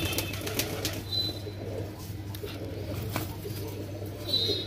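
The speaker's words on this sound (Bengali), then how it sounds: "এই পায়রাটা কালদম পায়রা তাই তো?" A Kaldam pigeon, a fantail-like breed at a pigeon farm in Nabadwip, gives low coos amid brief wing flaps and faint chirps over a steady background hum, with no speech.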